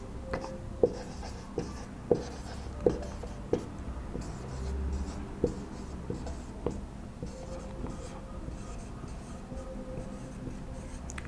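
Chalk or marker writing out a times table on a board gives a run of sharp taps and short scratchy strokes at an irregular pace, moderately close in a quiet room.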